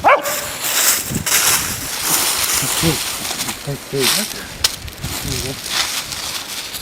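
A dog makes whiny yips and short barks in brief bursts, close by, amid outdoor background noise and people talking.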